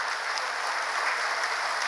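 Audience applause for volunteers at a large public gathering, a steady wash of many clapping hands sustained evenly throughout, with no voices standing out above it.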